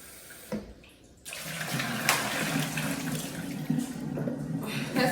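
Water running from a kitchen faucet into a sink while potatoes are washed, a steady close splashing hiss after a brief quiet start, with occasional louder splashes.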